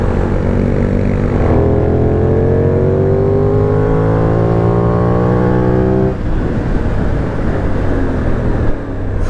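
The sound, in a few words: Benelli 752S motorcycle engine revving while riding hard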